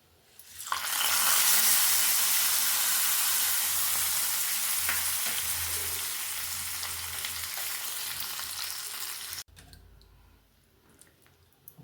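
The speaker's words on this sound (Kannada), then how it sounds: "ಇವಾಗೆಲ್ಲ ಒಗ್ಗರಣೆನೆಲ್ಲ ಚೆನ್ನಾಗಿ ಕೈ ಆಡಿಸ್ಕೊಳ್ಳೋಣ" Dry red chilies and coriander leaves crackle in a hot tempering for vegetable sambar, bursting into a loud, close sizzle that is stirred for several seconds, then dropping abruptly to faint residual frying near the end.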